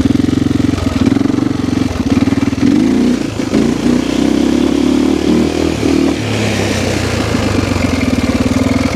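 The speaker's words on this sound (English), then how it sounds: "Carburetes really well too, like right off the bottom. Revs up top." A 1993 Husqvarna 610WXC motorcycle engine runs close and loud, idling with a rough, clattery thump and blipping into brief revs, staying prominent throughout with no talk.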